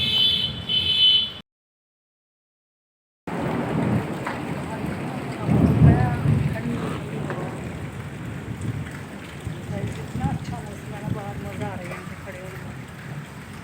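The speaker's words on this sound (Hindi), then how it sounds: "बिल्कुल फ्रेश हवा चल रही है, ठंडी ठंडी" Cool, fresh wind blowing steadily outdoors after dust stopped flying, a broad, airy rush that swells and fades, with a short silent gap near the start and a few faint voices in the background.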